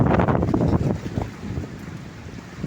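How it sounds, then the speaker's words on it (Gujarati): Powerful windstorm wind in Bharuch, a loud continuous roar buffeting the microphone up close, easing slightly toward the end. "માણસ એટલો અધર ફેંકાઈ જાય એવો પવન ચાલી રહેલો છે."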